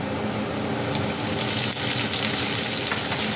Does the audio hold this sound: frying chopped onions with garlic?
yes